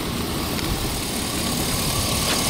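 A 2006 Hummer H2's 6-liter Vortec V8 idles steadily nearby, a smooth, even low hum with no revving.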